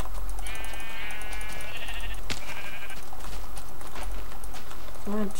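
Sheep bleating in the Minecraft video game. The bleats are repeated and tonal, with a short game thump partway through and another brief call near the end. They sit over a steady background.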